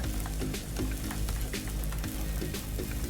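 Dry crackling and light sizzling from a hot frying pan dry-roasting ingredients for Thai fermented-fish chili dipping paste, with small pops and scraping as the contents are stirred, steady and close.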